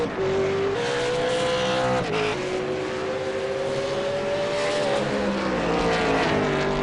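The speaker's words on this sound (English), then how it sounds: "I love watching how they attack those curves there for that S-bend." V8 Supercars race cars attack the S-bend at Barber Motorsports Park, one high engine note holding and shifting pitch as drivers lift and accelerate through the corners. It sounds close, loud and continuous, with no talk.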